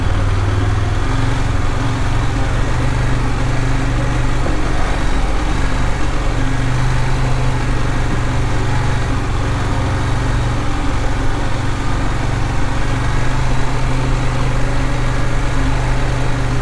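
A KTM 890 Adventure motorcycle rolls at low speed through a tight practice bend, its engine a steady low drone close by, mixed with constant wind noise and no talk.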